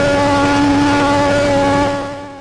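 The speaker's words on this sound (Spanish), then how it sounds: "¿Cómo suena un turbo de los años 80?" A 1980s turbocharged Formula 1 car engine at the Hungaroring in 1986 holds a loud, steady high-pitched buzzing drone that fades slightly at the end.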